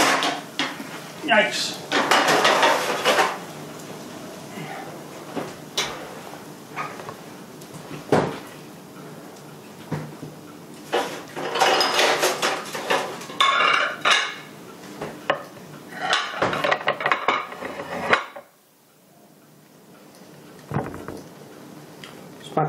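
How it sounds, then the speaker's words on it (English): A baking dish of shrimp DeJonge comes out of the oven amid kitchen clatter: scattered knocks, scrapes of metal and glass, and a door thump. A person talks intermittently, and a quieter lull falls near the end. "Now we're going to take the DeJonge out of the oven"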